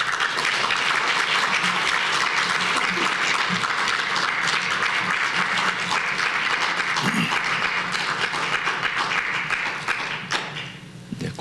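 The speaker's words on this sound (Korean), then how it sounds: "다시 한번 축하의 박수 부탁드리겠습니다." Warm congratulatory applause at a university inauguration service for a new board chair and president, a long continuous round of clapping that thins and dies away toward the end.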